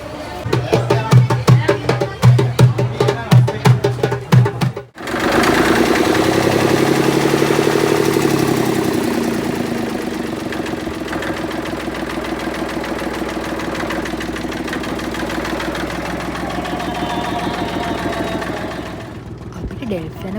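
Boat engine bound for Nagadeepa, running with sharp rhythmic chugging pulses at first, then dropping into a loud, steady idling drone that continues through to the end. Voices can be heard faintly at times.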